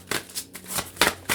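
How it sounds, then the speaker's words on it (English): Tarot cards shuffled by hand in several quick riffling bursts, close and crisp, with short pauses between them and no talking. "I want to shuffle the deck."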